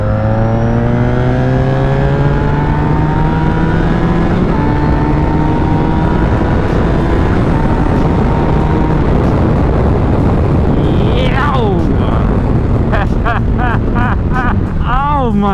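Honda VFR1200 V4 sport-touring motorcycle pulling hard in third gear around 5,000 RPM, a loud rising engine drone climbing steadily in pitch under heavy wind rush, with a rider talking over it and brief passing traffic near the end.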